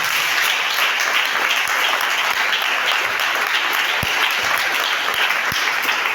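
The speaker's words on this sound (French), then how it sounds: "Tu peux acclamer le Seigneur." A church congregation applauds the Lord in a dense, steady burst of clapping that fills the room from start to finish, with a few low thumps underneath.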